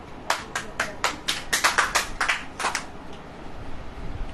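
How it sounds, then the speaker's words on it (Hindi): A church congregation claps together, a quick run of sharp, bright claps that grows into a denser burst of applause, then thins out and stops, leaving a quiet room. "ताली बजाइए।"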